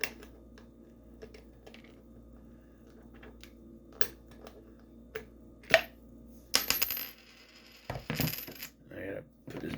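A coin drops into a coin bank with a sharp metallic clink amid soft handling noises, followed by a louder rattle and clatter of the bank being moved.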